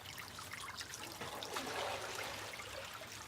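A small homemade backyard pond and water garden trickles and dribbles steadily, a soft, continuous splashing stream of water heard close by with no talking over it.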